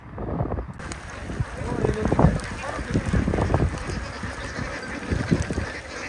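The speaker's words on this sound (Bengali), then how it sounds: "ওইখানে একটা হাঁসের খামার" Ducks at a duck farm on Chalan Beel, heard from a boat during a sudden rainstorm, give repeated honking quacks at middle distance amid steady wind and rain noise, with voices talking over them.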